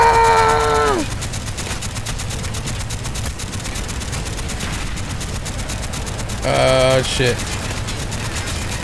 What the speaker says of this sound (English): Who's shooting from behind?